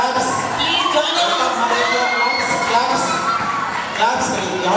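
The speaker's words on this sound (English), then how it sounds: "Claps." A school farewell party audience cheers and shouts, children's high voices whooping in a dense, loud crowd roar that carries on steadily throughout.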